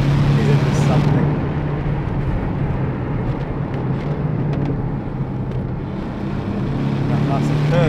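Porsche 718 Cayman S engine pulling steadily in third gear, a constant low drone with road and wind noise throughout, loud and close from inside the car, with a person talking over it.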